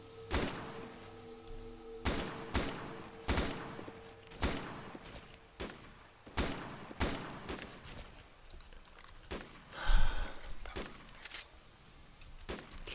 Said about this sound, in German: Irgendwer schießt ziemlich rechts